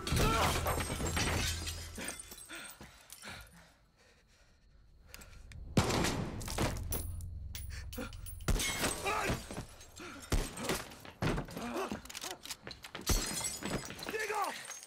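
A gunshot and shattering glass in the video game Far Cry 6, with sharp cracks and breaking glass amid bursts of gunfire, set among tense voices and dramatic game sound.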